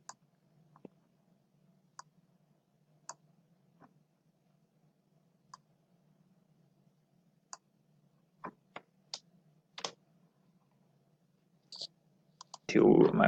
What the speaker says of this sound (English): I'm going to click on this folder here.